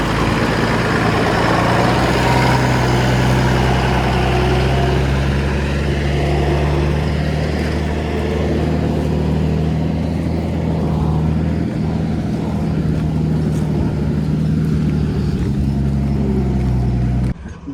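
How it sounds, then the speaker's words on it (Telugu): A cargo truck's diesel engine rumbles steadily up close, a loud, continuous low drone at a loading site, with no voices over it. "బండి అయితే వస్తుంది మనది."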